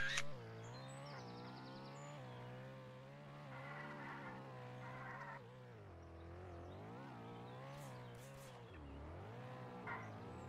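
A car drives through a city in a Roblox game, its engine a steady synthetic drone with pitch shifts as it speeds up and slows, plus a few brief electronic tones, with no talking.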